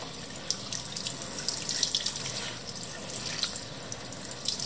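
Running tap water splashes steadily as an upgraded car air filter for a Ford Fiesta mk7 is rinsed, a continuous hissing gush with small splash variations and no talking.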